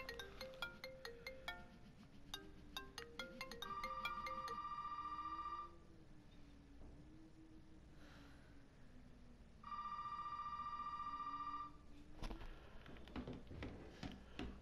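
A telephone rings in an electronic ringtone pattern, two long bursts of tone separated by a pause, loud and close over faint background sound, with no voices.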